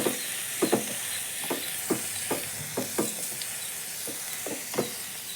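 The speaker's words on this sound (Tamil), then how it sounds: "இப்போ பீன்ஸ் சேர்த்துக்கணும். அந்த ஆயிலே கொஞ்சம் நேரம் வதங்கட்டும்." Beans sauté in hot oil with grated carrot, giving a faint, steady sizzle broken by a series of soft, regular stirring taps against the pan.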